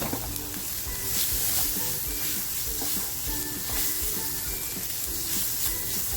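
Onion, chili and garlic frying in a pan for stuffed Bombay duck prawn rolls, a dense continuous sizzle with stirring clatter, close and steady throughout, no talk.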